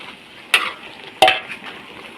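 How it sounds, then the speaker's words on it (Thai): Luffa stir-fried with pork and fresh chili in a large wok, a steady close sizzle broken by two sharp scraping stirs of the spatula against the pan. "ผัดบวบกระทะใหญ่เลยจ้ะ เป็นบวบหอมผัดใส่หมูใส่พริกพริกสด"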